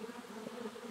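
Honey bees hum steadily at their hives, a dense, continuous buzz from many insects heard close and fairly soft, with no voices over it.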